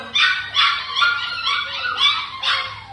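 Heavy-built German Shepherd puppies bark and yip in a rapid series of about five high, close calls with brief gaps between them.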